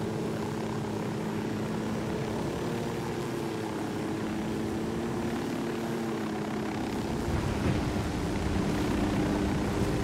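Helicopter rotor and engine drone during a landing in the video game Ghost Recon Wildlands, a steady loud hum with beating rotor texture holding throughout without letting up.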